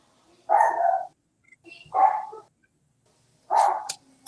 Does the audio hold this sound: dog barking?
yes